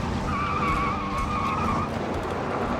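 A car brakes hard and skids through a J-turn, tyres squealing loudly in a sustained wavering screech that fades out after about two seconds, with no voices.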